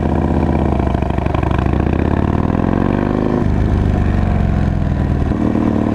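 A 2005 Harley-Davidson Dyna Wide Glide with an 88-inch V-twin engine rumbles loudly and steadily while riding, its deep throbbing exhaust pitch shifting as the revs change.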